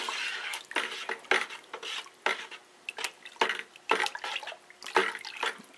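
An apple mixture is stirred in a pot, a run of repeated wet scraping clinks and sloshes in an uneven rhythm, close and fairly loud with no talk.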